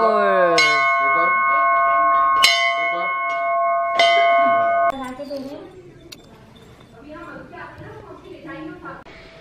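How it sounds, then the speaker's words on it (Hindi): A temple bell at Jhula Devi temple is struck three times in succession, each ring bright and sustained with long ringing overtones, followed by a noisy crowd and people talking in the background. "आ रही हूँ, एक मिनट बजा रहा घंटी।"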